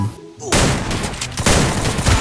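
Loud, dense automatic gunfire from the Free Fire video game erupts after a brief quiet start, with rapid overlapping shots continuing steadily to the end.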